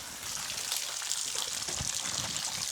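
Water falls steadily at a waterfall inside a slippery cave, a close, loud, continuous broadband rush and spatter with no break and no voices over it.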